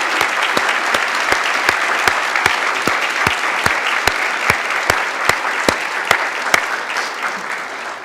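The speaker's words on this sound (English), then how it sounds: "One more last round of applause for everybody for their tremendous accomplishments this year." Sustained applause fills the room at an honor awards ceremony, many hands clapping evenly for award recipients, with a few sharp individual claps standing out near the microphone.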